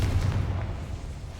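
Confringo blasting spell in the Hogwarts Legacy video game, heard as a deep, booming explosion that starts loud and fades into a rumbling tail within about a second and a half.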